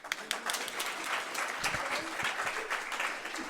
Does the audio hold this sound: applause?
yes